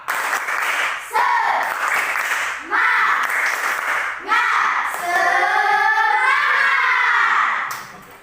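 Children at a school assembly perform a rhythmic spirit clap, bursts of clapping alternating with chanted group shouts in a repeating pattern, loud and close, ending with a sustained cheer before fading.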